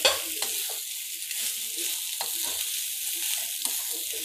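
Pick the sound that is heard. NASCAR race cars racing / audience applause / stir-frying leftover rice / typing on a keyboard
stir-frying leftover rice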